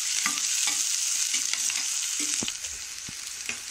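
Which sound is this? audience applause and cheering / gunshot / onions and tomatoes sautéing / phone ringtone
onions and tomatoes sautéing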